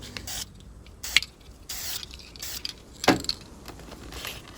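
A spray paint rattle can, used for painting soft vinyl toys, is shaken in short separate bursts of clattering and clicking, fairly close and quiet, with gaps between the bursts.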